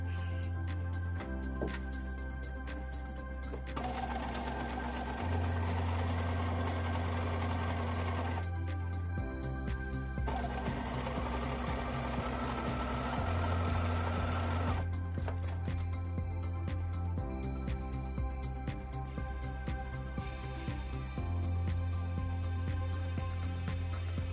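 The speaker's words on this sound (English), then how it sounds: "we'll just carefully sew through the pocket bag just to enclose it all the way around." Sewing machine stitching through the pocket bag of a pair of Linden shorts to enclose a welt pocket, running in steady bursts with short pauses between seams, close and alone with no talk.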